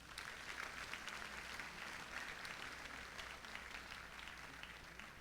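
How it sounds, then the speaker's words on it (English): Applause for mentors and professors at a university commencement rite, a broad, even roar of many hands clapping that stays steady throughout, fairly quiet and distant. "Let us therefore give our mentors and professors a big round of applause."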